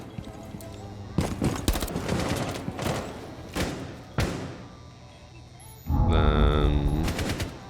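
Gunfire in a video game, a burst of sharp shots around one to two seconds followed by scattered single reports, then a louder sustained rumble near the end.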